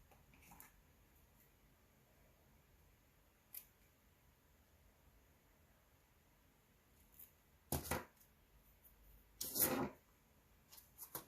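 Scissors cutting out a fake flower for a blank, heard as a few faint, separate snips and two louder crunching cuts later on, in a quiet room without speech.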